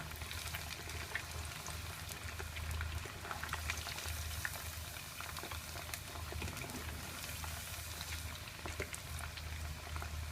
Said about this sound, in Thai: ทอดสักประมาณหนึ่งนาทีพอนะคะ ไม่ต้องทอดนานมาก